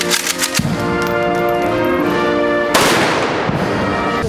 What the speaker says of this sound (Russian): А после минуты молчания прозвучал салют в честь героев.